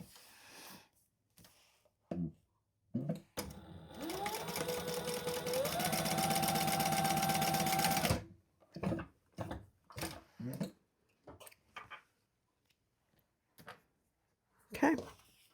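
Sewing machine stitching the side of a zip-around travel wallet, one sustained whirring run of about four seconds whose pitch steps up midway, framed by short handling clicks and rustles.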